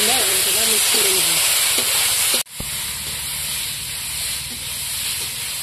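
Spices sizzle as they fry in a pan, a steady bright hiss that cuts out briefly and returns slightly quieter, while a person speaks over the first couple of seconds.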